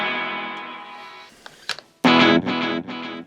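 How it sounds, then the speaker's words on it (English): Distorted electric guitar through a Roland Micro Cube amp with reverb turned all the way up, a sustained chord fading, a few muted picks, then loud strummed chords with heavy wash ringing after each. "the reverb when you turn it all the way up is like this"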